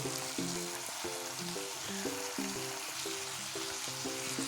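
A wok of vegetables with coriander powder added fries with a moderate, even hiss, light stirring now and then, and a quiet musical pattern carrying beneath it.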